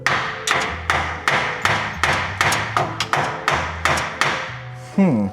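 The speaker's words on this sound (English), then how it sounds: "I'm just hitting it with a hammer" A hammer strikes the starter motor of a Ford Thunderbird in a steady series of sharp, ringing metal blows, about ten hits, with a low hum underneath and a brief voice at the end.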